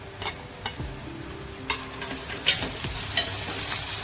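Onion, garlic and tomato fry in a pan, a steady close sizzle broken by several sharp scrapes and clicks of a spoon stirring against the metal, with no voices.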